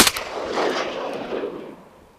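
A single loud shotgun blast goes off during a duck hunt on peat quarries in August, with a sharp crack followed by a long rolling echo that fades out across the open water.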